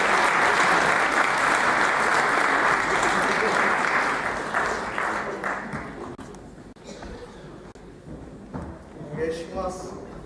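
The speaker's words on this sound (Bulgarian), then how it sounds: "Аплодисменти, страхотна демонстрация." An audience at an aikido friendship demonstration claps loudly and steadily for the performers; the applause gradually thins and fades, and a voice begins talking near the end.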